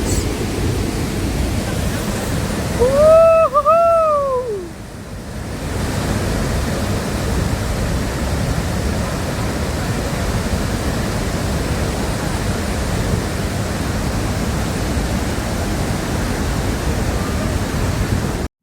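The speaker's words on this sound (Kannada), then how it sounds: "ವಾಟರ್ ಫೋರ್ಸ್ ಮಾತ್ರ ಫುಲ್ ಹೈಯೆಸ್ಟ್ ಪೀಕಲ್ಲಿತ್ತು ಮಾತ್ರ." Athirapally waterfall in Kerala, at peak water force, gives off a loud, unbroken roar from close by, with a brief whistling tone rising over it early on.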